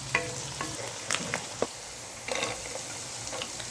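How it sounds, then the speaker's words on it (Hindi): Chopped onion frying in a pan, a soft steady sizzle under scattered stirring scrapes and clinks, with a few sharper knocks, fairly quiet and close. "प्याज को 3 से 4 मिनट तक हम अच्छी तरह फ्राई करेंगे।"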